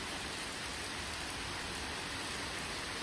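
Rain falling outside a house during a thunderstorm, a steady dense hiss of drops heard alone, faint and even throughout.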